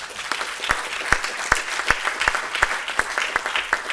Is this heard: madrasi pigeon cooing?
no